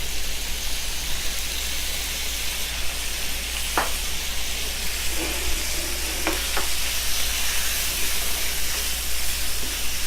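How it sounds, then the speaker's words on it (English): Beef browning in a hot pan for a stir fry, an even, dense sizzle that holds steady for the whole stretch, with a few faint utensil clicks, close up and uninterrupted by talk. "we're letting the meat brown a little"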